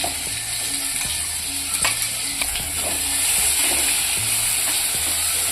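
Masala with garlic roasting in a pan for a methi and bajra flour dish, a continuous close sizzle with repeated spatula scrapes and stirring clicks, no voices.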